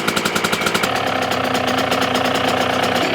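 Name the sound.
rebuilt two-stroke engine idling after carburetor cleaning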